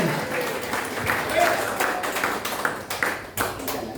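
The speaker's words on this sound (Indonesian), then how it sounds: "Waktu Tepuk tangan." Audience applause at a union anniversary gathering in Indonesia, a dense patter of clapping with a voice speaking over it, fairly close and steady.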